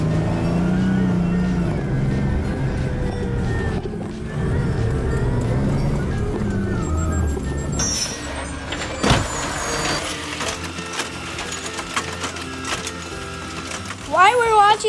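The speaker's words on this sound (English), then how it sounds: "Let's watch Robert dump some bins in fast mode" Garbage truck lifting and dumping bins, played back sped up, with whirring hydraulics, mechanical clatter and banging over a steady engine drone.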